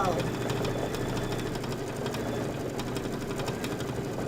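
A Kimberbell embroidery machine quilting pumpkin-and-potion panel sections gives a close, steady mechanical whir with a rapid, even stitching pulse that runs unbroken throughout.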